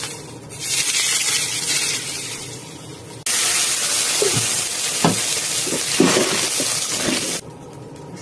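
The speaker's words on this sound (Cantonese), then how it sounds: "關火，將佢炸落去。" Smoking-hot oil poured over California bass with shredded ginger gives a sudden loud sizzle and crackle that keeps hissing, then fades as the pour stops.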